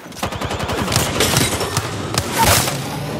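Rapid bursts of automatic gunfire from the video game Apex Legends crackle in quick succession, dense overlapping shots punctuated by a few louder sharp reports, continuous and fairly loud throughout.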